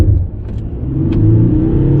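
A 2019 Volkswagen Touareg V6 TDI pulls away hard from a standstill using launch control, its engine loud and close as the revs climb in a brief, steady surge.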